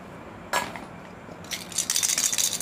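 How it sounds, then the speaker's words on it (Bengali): A toy cooking pot (kadai) is handled, giving one sharp clink, then a pause, then a run of small rattling clinks close by. "এটা একটা খুব সুন্দর কড়াই"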